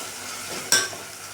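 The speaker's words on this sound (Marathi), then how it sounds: "सोनेरी कलर येईपर्यंत तळून घेऊ." Grated coconut fries in hot oil in a pan, a continuous soft sizzle with one sharp scrape of a spoon midway, close and without speech.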